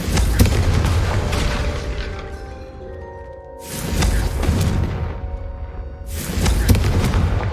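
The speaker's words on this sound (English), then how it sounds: "Have a go at those candelabras. Both have their uses, but I think you'll find that a Confringo cast travels a bit farther than that of a spell like Incendio." Confringo fire spells cast at candelabras in the video game Hogwarts Legacy, with three heavy booming blasts spaced a few seconds apart, each followed by ringing tonal debris and a rumbling decay.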